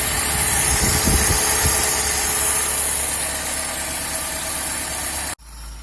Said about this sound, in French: Voilà, il a démarré au quart de tour.